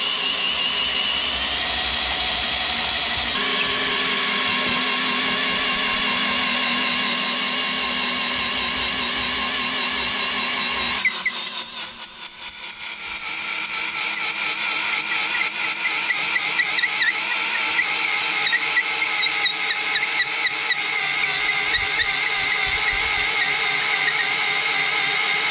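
A drill fitted with a 16 by 300 wood bit bores through timber, a sustained loud motor whine that shifts pitch partway through as the bit bites and clears chips, then carries on with rougher grinding.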